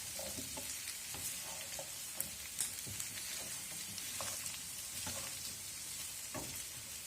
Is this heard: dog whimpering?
no